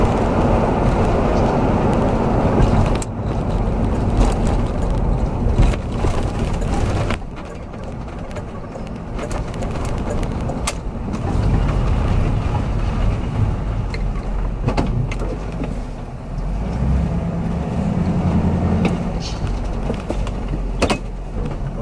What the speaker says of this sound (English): hear the V8 now